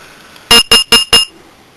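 A carbon monoxide and smoke alarm inside a Compass Venture 302 caravan gives four loud, shrill electronic beeps in an even rhythm, close by, over a faint background hum.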